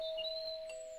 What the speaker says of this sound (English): Let's ring the doorbell.